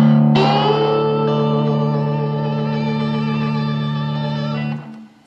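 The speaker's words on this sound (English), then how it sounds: "you do get a nice little hiss because of the texture on the bone" Sustained slide guitar notes played with a bone slide ring out for several seconds, a faint gritty hiss from the bone's texture on wound strings layered over them, then fade away.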